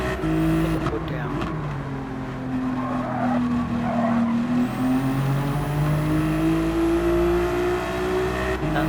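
A Ferrari race car in a racing game drives hard out of a tight corner, its engine droning loud and continuous while the tyres squeal and skid throughout, with the pitch slowly dipping and climbing again.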